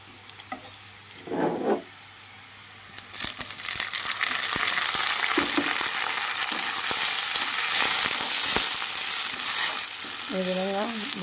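Goat tripe frying in oil with onions builds into a loud, steady sizzle that fills the clip, with a few brief utensil knocks and scrapes, after a quieter start with short clatters.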